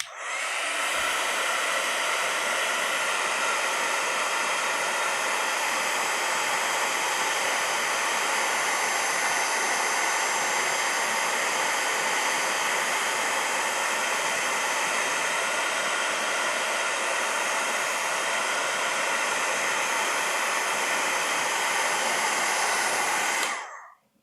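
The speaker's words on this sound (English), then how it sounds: "I'm going to bring in my heat tool and turn this on, and it will melt the powder." Heat tool blowing hot air to melt embossing powder on a craft mat, a steady loud fan-like whoosh that runs unbroken for the whole stretch before cutting off at the end.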